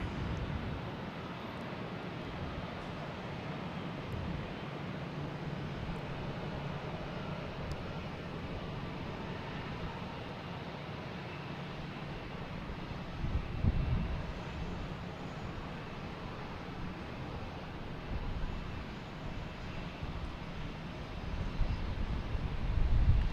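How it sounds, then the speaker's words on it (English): A Lufthansa Airbus A340 arriving at Boston Logan Airport from Frankfurt, its engines a steady distant roar with low rumble that grows slightly louder toward the end. "And now we have Lufthansa A340."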